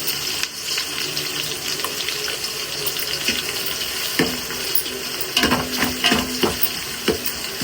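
Onions sautéing in a pan while cooking mushroom biryani, a steady broadband frying sizzle throughout, with a few louder clinks and scrapes of stirring near the end, close and continuous with no talk.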